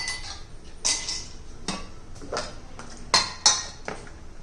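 Ice cubes drop into two glasses for watermelon juice, giving a series of sharp, bright clinks and knocks at irregular intervals, close by and with no talk.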